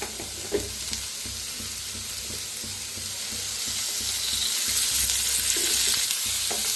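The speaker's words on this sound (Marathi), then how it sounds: "ह्याच्यात थोडंसं तेल वतून फ्राय करून घेऊया" Eggs fry in a little oil for a masala egg dish, with a steady close sizzle and crackle and occasional light spatula scrapes, growing slightly louder toward the end.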